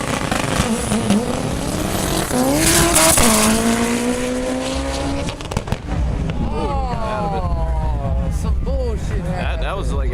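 A drag racing car makes a full pass down the strip, its engine rising in pitch through loud gear changes and then fading, while someone talks over the noise.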